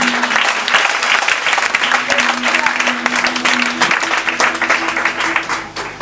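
A congregation applauding during a French-language church service, sustained loud clapping from many hands with a voice carrying over it.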